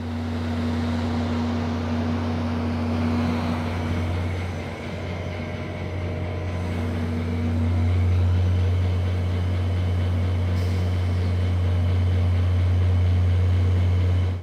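A loud, steady low engine hum and rumble of a stopped locomotive idling at the front of a Canadian sleeper train, continuous throughout with a slight swell partway through.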